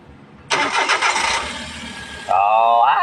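A car engine cranks and catches after its oxygen sensor was cleaned, with a loud starter whirr settling into a steady idle that rises in pitch toward the end.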